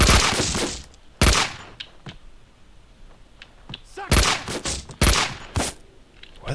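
Gunfire in the video game Max Payne 2: The Fall of Max Payne, with sharp shots and bursts scattered over a quieter background, a few loud cracks clustered at the start and again near the end.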